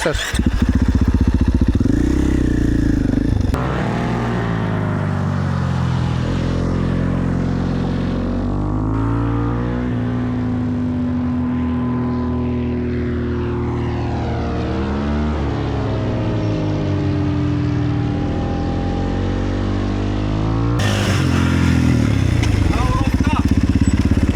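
Motorcycle riding around a race track, its engine rising and falling in pitch as it accelerates hard and eases off for turns, loud and continuous; a voice is heard at moments.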